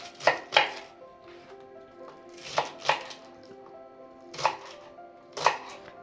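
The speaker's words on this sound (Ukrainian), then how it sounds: "Так всю капусту поріжу." A knife chops cabbage on a board for a vitamin salad, sounding as crisp, close strikes that land in pairs, with pauses between the pairs.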